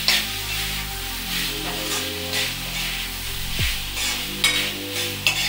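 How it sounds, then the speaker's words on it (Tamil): Fried cauliflower for Gobi Manchurian is stirred in a pan over a high flame, with a steady close sizzle under occasional scraping and clinks of the spoon against the pan. "காலிஃப்ளவர், அதை ஆட் பண்ணிட்டு நல்லா மிக்ஸ் பண்ணிக்கோங்க. நல்லா ஹை ஃப்ளேமில் தாங்க இருக்கணும்"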